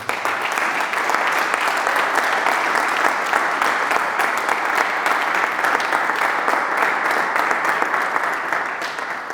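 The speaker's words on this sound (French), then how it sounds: "Est-ce qu'on peut acclamer très fort?" A church congregation at a French-language worship service applauds and cheers loudly, a dense, steady roar of clapping and shouting that holds for the whole stretch before easing slightly at the end.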